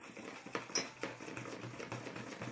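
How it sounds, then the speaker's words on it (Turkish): Vigorous stirring of cake batter with a utensil in a bowl, a fairly quiet run of repeated clinks and scrapes in an uneven rhythm, heard close up with no talking. "Bak birazcık ben güçlü güçlü karıştırayım mı?"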